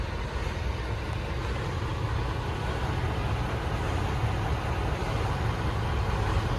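A Peterbilt truck engine idling at a truck stop in northern Georgia, a steady low rumble that holds constant and fairly loud throughout with no speech over it.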